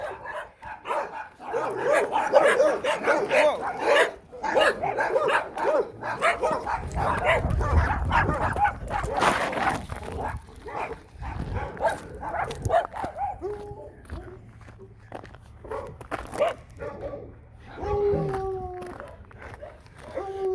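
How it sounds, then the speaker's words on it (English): Five or six dogs guarding a house in Zapata, Texas, bark in loud repeated bursts, some near and some farther off, with yips and whines among them. "They're 5 dogs guarding one house."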